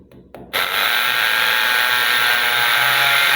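Power drilling machine boring a hole into ceramic tiles during a home water purifier installation, starting abruptly after a short quiet lead-in with a loud, steady high-pitched grinding whine that holds close and continuous.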